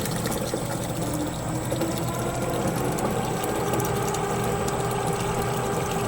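A Pasmo S520f machine running on its wash cycle pumps out water with a steady mechanical whirring and ratcheting hum, constant and close throughout, with no voices.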